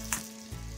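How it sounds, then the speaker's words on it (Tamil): Water hitting a hot kadai with ghee left from roasting cashews gives a steady loud sizzle with a sharp burst early on, close and continuous, no talk. "அதே கடாயில 1 டம்ளர் வந்து தண்ணி விட்டுக்கணும்."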